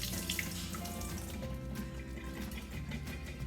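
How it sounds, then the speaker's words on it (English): Filtered water runs steadily from a tap to rinse sprouting seeds, a constant, soft splashing wash with no talking. "I'm just going to rinse them one more time before I pour them into my dish here."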